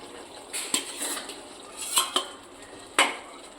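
Paneer stirred into butter in a pan for a Punjabi-style shahi paneer, a spoon clanking and scraping against the metal in several sharp knocks over a faint sizzle, no voices.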